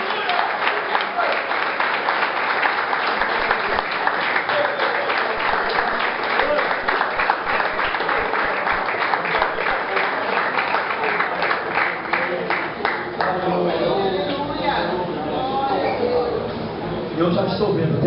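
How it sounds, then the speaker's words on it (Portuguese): A congregation at a church campaign service claps together in praise, with a steady wash of applause that softens and turns mixed with voices in the last few seconds. "Quem pode aplaudir a Ele"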